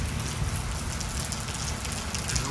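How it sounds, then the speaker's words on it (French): Steady rain falling on a wet day in Texas, a dense continuous patter and hiss at even loudness throughout, with no voices. "voici un jour de pluie au Texas."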